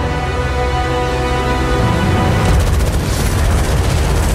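War gunfire in the Mecha Arashi video game intro: tonal music holds for a couple of seconds, then heavy booming shots and blasts break in and keep rumbling to the end.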